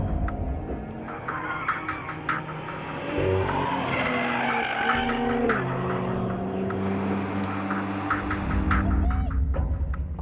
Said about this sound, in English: Gugu had a few hours to himself on the Motor Museum's test track to put the M2 through its paces